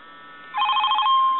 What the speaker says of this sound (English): I've got the ringtone there, and I have actually got the ringtone working